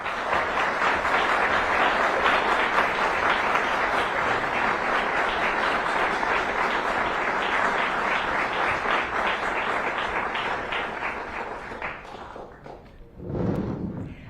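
An audience at a mayoral debate applauds steadily and loudly for over ten seconds before the clapping thins out and fades, with a brief burst near the end.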